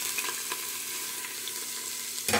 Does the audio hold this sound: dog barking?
no